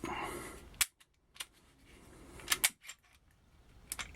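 FNH FNS 40 pistol slide sliding onto the guide rod during reassembly, a few sharp metallic clicks and snaps standing out close against a quiet room.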